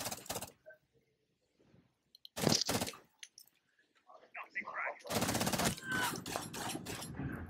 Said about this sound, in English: Damn, that shotgun goes far as hell.